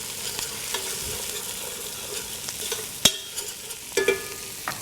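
Onions sweating in butter and olive oil for a minestrone, a soft steady sizzle close by with a few sharp clinks of a utensil against the pan.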